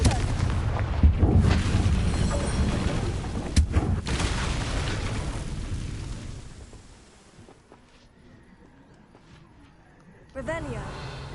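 A Confringo spell cast in Hogwarts Legacy sets off loud booming blasts in the first few seconds, which then fade to quiet rumble before a final burst, with speech over it.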